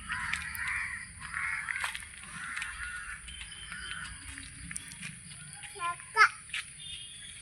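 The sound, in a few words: crow cawing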